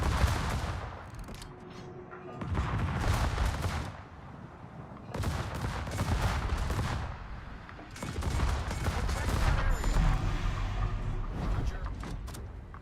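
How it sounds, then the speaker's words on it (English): Warships in a video game firing volleys of shells, heavy booming salvos in several long bursts with rumbling gaps between, loud and close, with someone talking over them. "I'm sure these things are expensive ships too, for the amount of shells that they fire."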